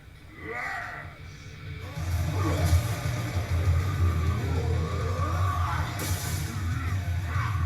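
A fight scene from the 1995 Mortal Kombat film plays with a crowd yelling and whooping loudly and continuously, rising after a brief quieter opening and staying dense throughout.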